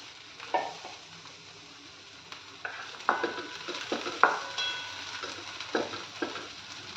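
Coriander leaves frying in a pan for a roti-style chutney: a quiet, steady sizzle with irregular metal spatula scrapes and taps against the pan, close up and without speech.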